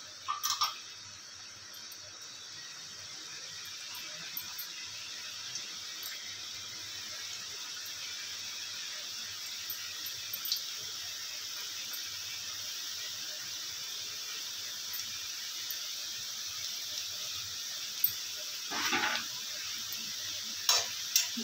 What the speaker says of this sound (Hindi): तेल हमारा गर्म हो रहा है, फिर हम नमक पारों को फ्राई करते हैं।